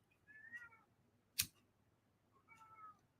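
A cat meows indoors in a room, giving two drawn-out, fairly faint cries about two seconds apart, separated by a sharp click.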